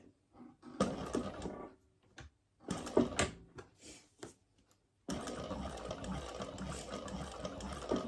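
Sewing machine back stitching through the thick part of a bag made from butter bags, first in short stop-start bursts, then running steadily and loudly for the last few seconds.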